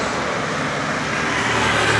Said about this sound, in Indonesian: lumayan ramai ya guys, banyak kendaraan lalu lalang terutama motor ya guys